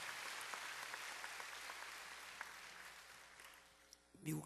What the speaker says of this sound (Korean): 우리 박수 한번 하세요